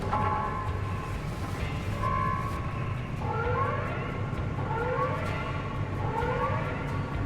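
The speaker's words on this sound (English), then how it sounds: "You'll hear a siren go off and then you know it's time to go." A siren in the video game Pacific Drive wails in repeated rising sweeps over a steady, dense rumbling background.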